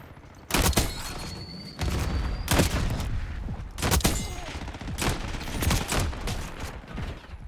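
Sniper gunshots in the video game Black Ops 6, sounding as several loud, separate cracking blasts spaced a second or so apart over a rumbling background of other gunfire.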